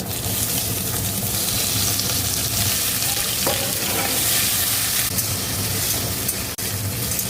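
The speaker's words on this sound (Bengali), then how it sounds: "এবার এই আলুগুলোকে দিয়ে দেবো তেলের মধ্যে" Potatoes sizzle loudly in hot oil with black cumin seeds, a dense, steady crackling hiss that continues throughout, with a faint stirring clink near the end.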